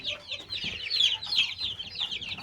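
Ispenc chickens cluck and squabble in a coop while pecking at freshly poured feed, a continuous busy chatter of many birds at moderate distance.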